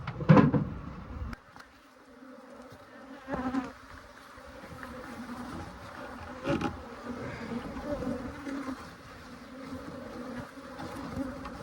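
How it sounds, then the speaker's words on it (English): A dense, steady buzz of many bees hovers close by at beehives during maintenance, with a few soft knocks and bumps along the way. "You guys can see the bees are very active here."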